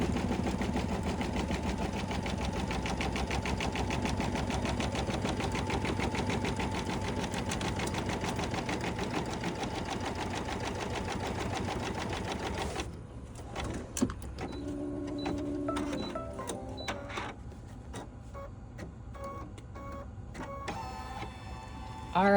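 A sewing machine double-stitching around a quilted fabric mug rug whirs steadily and loudly for about twelve seconds. It then stops, leaving soft scattered clicks and handling noises.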